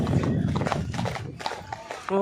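Horse hooves clip-clop steadily during a horse ride in Kodaikanal's Green Valley, a brisk close rhythm of hoof strikes with people talking over them throughout.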